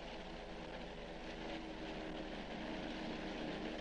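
A propeller airplane flying a parabolic zero-gravity flight gives a steady, loud engine drone that fills the whole moment without a break.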